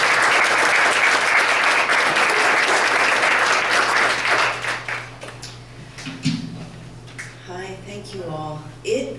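An audience at a public poetry reading gives steady, full applause to welcome poet Julia. The clapping thins out after about five seconds and gives way to her speaking.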